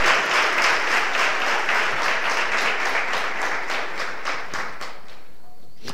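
A church congregation applauds with dense, steady clapping that slowly thins and fades toward the end.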